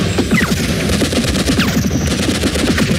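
Gunfire in a 1991 Slovak radio play of Karel Čapek's War with the Newts: loud, dense rapid bursts of machine-gun shots and crackling fusillades that go on without a break.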